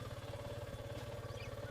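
A motorbike engine idles steadily at close range with a low, even thrum and rapid regular pulsing, kept up without a break and with no voices, by the Kangsabati river at the Jaydah Shiva temple in Jharkhand.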